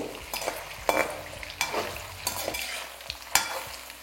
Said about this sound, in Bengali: তারপর একদম হাই ফ্লেমে এটাকে লাল লাল করে ভালো করে ভেজে নেব।